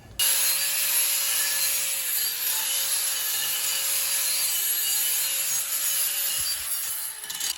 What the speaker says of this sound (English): I'm going to put a flap wheel on the grinder and take all this rust